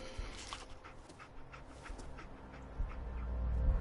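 Dogmeat, the dog companion in Fallout 4, whimpers and pants softly in short breathy bursts over a low game ambience, faint and close, with a rumble building toward the end.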